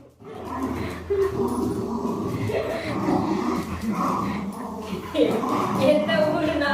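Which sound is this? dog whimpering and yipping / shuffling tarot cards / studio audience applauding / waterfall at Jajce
dog whimpering and yipping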